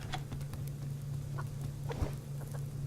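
Chickens in the farming survival game Subsistence give a few soft, scattered clucks over a low steady hum, faint and sparse.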